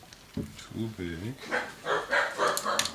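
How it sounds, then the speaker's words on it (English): Several dogs bark in short bursts at someone at the door of a home workshop, a few loud yips early on followed by busier barking mixed with a voice talking. "Pardon the dogs. Must be somebody at the door."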